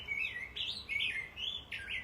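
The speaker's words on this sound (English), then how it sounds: "got a little bird competition here." Small birds chirp near a feeder outdoors, several bright, close tweets and short calls coming in bursts over a low steady background hum.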